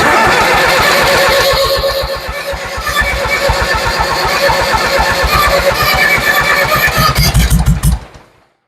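Ford 7000 tractor engine cranking and stumbling as it tries to catch, loud rhythmic chugging that surges and falters, building near the end before cutting off abruptly.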